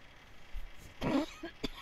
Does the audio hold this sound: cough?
yes